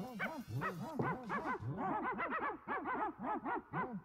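Several dogs barking excitedly, a fast, overlapping string of high, yappy barks and yelps, close and continuous, with no talking.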